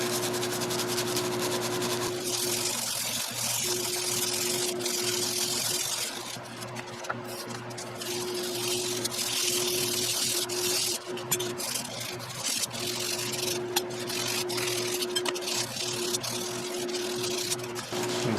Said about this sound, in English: we're going to take some coarse steel wool. Now, you want to not necessarily get onto the cutting edge, but just work over where the rust is.